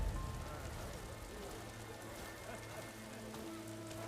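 Steady rainfall in the video game Horizon Forbidden West, a soft, continuous patter on surfaces mixed with low ambient music drones, heard fairly quietly throughout.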